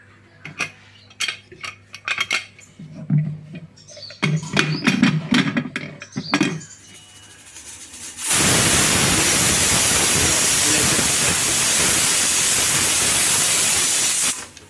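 A village-style pressure cooker of dal on a stove lets out a loud, steady steam hiss that runs for several seconds, after some clinking of utensils and pots nearby.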